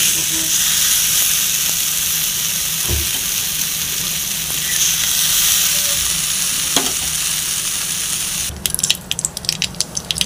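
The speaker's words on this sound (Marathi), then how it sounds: "आता मी शेंगदाणे पण याच्यात भाजून घेते थोडा" Peanuts roasting in a pan give a loud, continuous frying hiss with scattered scraping stirs, and sharp dry rattles and crackles break out near the end.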